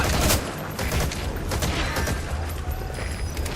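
Support helicopter gunfire in Metal Gear Solid V: The Phantom Pain, a loud, continuous rapid-fire barrage of shots with a mechanical rattle, heavy throughout with no break.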